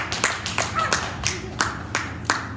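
A church congregation claps their hands in a steady rhythm of about seven sharp beats over a little under three seconds, with a faint murmur of voices underneath.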